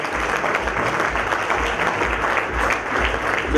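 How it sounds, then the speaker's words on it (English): An audience at an event for a municipal commissioner breaks into loud, continuous applause, a thick crackle of many hands clapping together over a rumbling low undertone for several seconds. "Can it be a roaring thunder of applause,"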